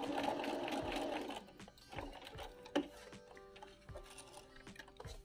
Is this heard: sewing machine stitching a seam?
yes